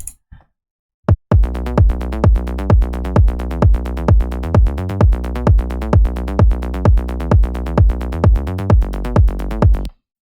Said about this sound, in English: So my bass sounds like this.